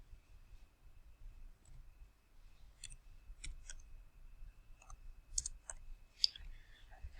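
Faint, scattered clicks of typing on a keyboard while an equation is entered. The light, separate taps arrive in small irregular groups over a low steady background.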